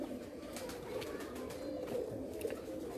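Pigeons coo steadily and softly for the whole stretch, a continuous low murmuring chorus at moderate distance, with no voices over it.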